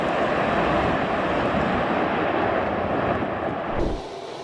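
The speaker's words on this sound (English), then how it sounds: "Try landing a commercial plane in crosswind this wild." A commercial plane landing in a strong crosswind, a loud, steady broadband roar of engines and wind that drops off sharply near the end.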